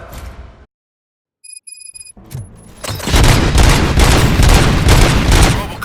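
Gunfire in the RoboCop: Rogue City video game: after a quiet pause and a few high electronic tones, a sustained loud fusillade of shots and booms erupts and keeps going to the end.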